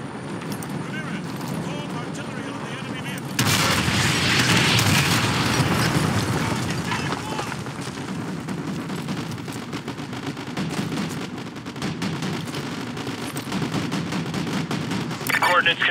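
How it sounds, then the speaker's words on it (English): Artillery fire in the Call of Duty Modern Warfare 2 campaign rumbles as a dense run of booms and gunfire, with a heavier barrage in the middle and voices speaking throughout. "Fire mission received. Artillery inbound."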